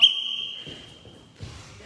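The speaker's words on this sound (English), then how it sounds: "We'll give Bruce the whistle." A referee's whistle sounds to start a wrestling bout at practice, one sharp, loud blast held for over a second, followed by faint room noise and shuffling.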